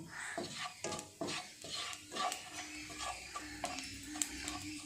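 Cumin seeds frying in a kadai for a capsicum paneer masala: a soft, close sizzle broken by repeated scraping stirs and small ticking taps against the pan, fairly quiet throughout.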